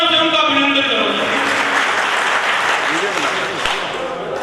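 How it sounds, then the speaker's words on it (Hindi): An audience at a state-level traders' conference breaks into loud, sustained applause that fades slightly toward the end, with a speaker's voice over it. "एक बार जोरदार तालियों से उनका अभिनंदन करो"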